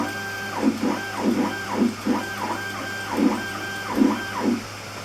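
An X-Carve CNC machine's stepper motors drive the axis upward in a series of short whirring moves, each burst rising and falling in a steady rhythm against a constant electrical hum, close and moderately loud with no talking.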